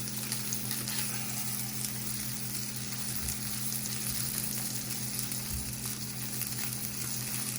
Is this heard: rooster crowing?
no